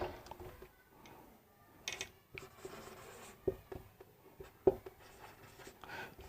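A pen or chalk writes out a chemical equation definition, scratching and tapping in short irregular strokes with small clicks, faint and close, with no other sounds.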